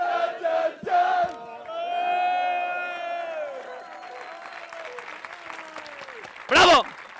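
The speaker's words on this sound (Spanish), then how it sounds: "Un aplauso para Pablo." Live audience applauding and cheering at the close of a comedy podcast taping, loud clapping and whoops with a voice chanting over it early, then a sharp burst of cheers near the end.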